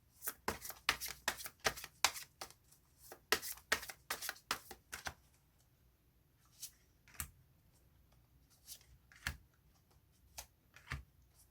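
Tarot cards being shuffled and drawn, a brisk run of crisp card flicks and slaps up close, then sparser single snaps as cards are laid out.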